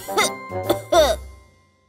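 A short series of three voiced coughing bursts, close and fairly loud, with the last one trailing off into silence.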